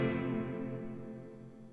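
Plate reverb from a Supro Airwave amplifier rings out after a guitar chord, a smooth, dense tail that fades steadily over under two seconds, fairly quiet and alone.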